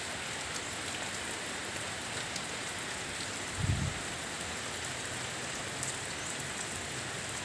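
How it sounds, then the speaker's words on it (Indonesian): Heavy rain pours steadily outdoors at a wrought-iron gate job site, a dense continuous hiss throughout with one brief low thump near the middle. "Hujannya cukup deras juga."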